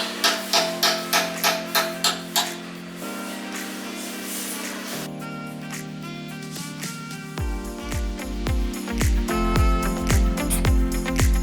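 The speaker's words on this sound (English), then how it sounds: "Remove the electrode by hitting it with a hammer into the small gap between the electrode and the holder." A hammer lightly taps a welding electrode out of its holder in about ten quick, evenly spaced clicks, then background music plays alone.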